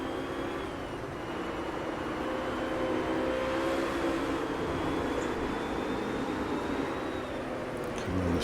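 A race car in Project Cars drives steadily with a continuous engine drone and a faint whine that climbs slowly. It stays even and moderately loud, with a small change near the end.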